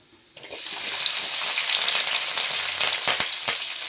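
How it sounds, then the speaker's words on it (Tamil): A sudden loud sizzle as chopped onions and curry leaves drop into hot oil, settling into steady, close crackling and frying. "இப்போது பொடியாக நறுக்கின வெங்காயமும் கருவேப்பிலையும் சேர்த்துக்கலாங்க"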